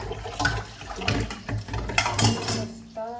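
Tap water runs and splashes while plates and children's lunch boxes are washed, with dishes clattering in bursts throughout and a brief clink near the end.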